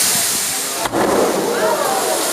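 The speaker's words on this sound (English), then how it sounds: "We have water cannons." A loud, steady rushing blast of spraying water from a theme-park water cannon effect pressurized to 100 psi roars continuously, briefly dipping before surging back, with a voice faintly beneath.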